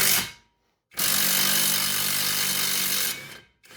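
Power tool driving a 13 mm socket on an extension onto a bracket bolt of a Jeep during a 3.5-inch lift kit install: two loud bursts, a short one then a sustained two-second whir, close and without talk.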